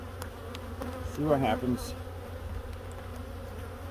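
Honey bees buzz around an open hive as bees are scraped off a frame for a sugar roll mite count, a constant drone beneath a man's brief speech.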